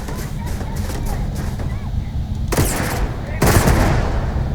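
Magpulse rifle fire in the Starfield video game: two loud, sharp game gunshots with short tails ring out over a constant engine-like rumble and background game noise.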